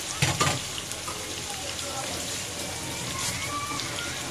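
Onions fry in butter for a Chinese-style vegetable dish, a steady close crackling sizzle after a few brief clatters at the start, with no voices.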